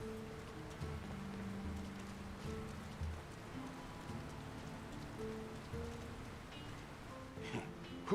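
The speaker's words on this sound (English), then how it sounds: "Who could live in a town where it's always raining?" Steady rainfall patters on surfaces in a rainy town in the video game Lord of the Rings: War in the North, a soft continuous hiss beneath low ambient game tones, with no talking.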